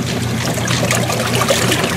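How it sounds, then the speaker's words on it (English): Water sloshing and splashing inside a running Kenmore 80 Series washing machine, a continuous close swish over a faint low machine hum, with no voices. "You got more sound of the water splashing around than you do of the machine running."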